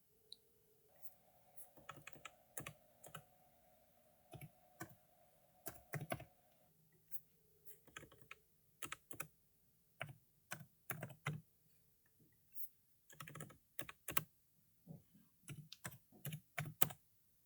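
Computer keyboard typing while entering coordinate values in GNSS post-processing software, a close, quiet run of irregular key clicks in short bursts with brief pauses, alone without speech.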